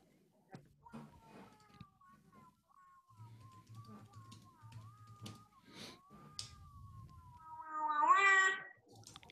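A human voice imitates a cat's meow at a vocal-instruments workshop, drawing out long, wavering, whiny tones and finishing with a louder, rising mew, with faint murmurs and small knocks around it.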